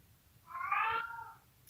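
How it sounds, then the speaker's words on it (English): A cat meows once, a drawn-out, wavering call lasting close to a second, heard up close against a quiet indoor room with no talking. "He's meowing."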